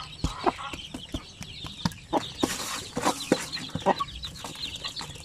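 A Basilan hen clucks near her first chick, with short, repeated clucks and chirps in an uneven rhythm, close and moderately loud, and no talk.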